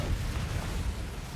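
A Confringo blasting spell explodes in Hogwarts Legacy as a steady, heavy low rumble that fills the whole moment with a dense booming roar and no clear separate hits.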